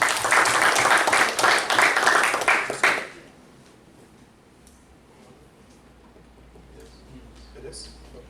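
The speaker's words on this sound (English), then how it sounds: "So please give him a big round of applause." Audience applause for a speaker at a talk on economic development, loud and dense for about three seconds, then cutting off sharply into a quiet room.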